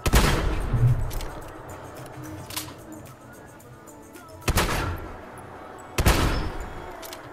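Three sharp, booming explosions in Fallout 4 as objects get blown up, spaced a couple of seconds apart and loud, with a quieter rumbling game ambience between blasts.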